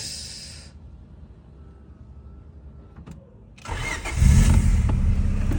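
A car engine cranks and catches, then settles into a loud, steady idle after a quieter stretch of low rumble.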